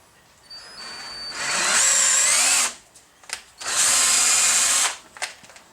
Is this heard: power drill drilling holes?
yes